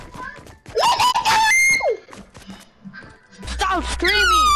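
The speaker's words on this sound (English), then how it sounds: "Stop screaming!" Loud, shrill screaming and squealing voices erupt in bursts during a Fortnite game session, rising and falling in pitch, with excited talk and game sounds mixed in between the cries.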